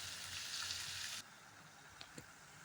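Tomatoes and beans fry in a pan for kara kuzhambu, a faint steady hiss that drops off abruptly partway through, followed by a couple of soft stirring taps.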